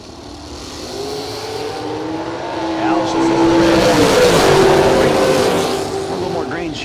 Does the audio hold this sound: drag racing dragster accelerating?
yes